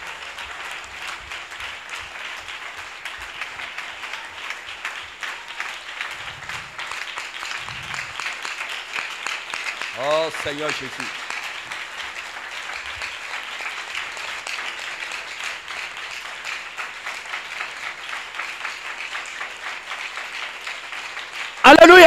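Worship congregation applauding steadily throughout, a dense continuous wash of clapping beneath a leader's sung and spoken prayer, with a brief louder burst at the very end.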